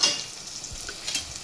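Chicken liver masala frying in a pan with ginger garlic paste, onions and tomatoes, a soft even sizzle with faint stirring scrapes, close and steady.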